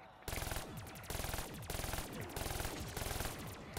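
Rapid automatic gunfire in Call of Duty: Black Ops III, several loud close bursts of a machine gun separated by brief pauses, each burst a fast metallic rattle of shots, no voices over it.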